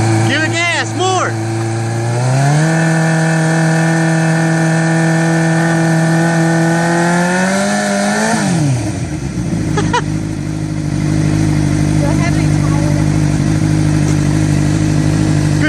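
A motorcycle engine revs up loudly nearby, holding a high steady drone before dropping back to idle, with a person talking over it.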